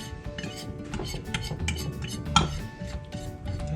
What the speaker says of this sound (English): So he's gonna mix this together very well